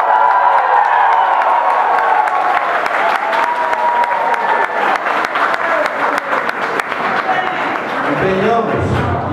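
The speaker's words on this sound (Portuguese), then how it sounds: "Aplausos." A loud crowd applauds at a mayoral inauguration ceremony in Lagoa Formosa, with dense clapping, some cheers and whoops close by, and a voice coming in near the end.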